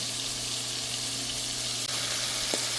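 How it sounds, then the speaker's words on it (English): Ginger garlic paste sizzles in a pan of tomatoes for a ground beef and potato keema curry. The frying hiss stays steady and close, with a low hum underneath and a faint scrape of stirring near the end. "Now at this point, I'm going to start adding my ginger garlic paste."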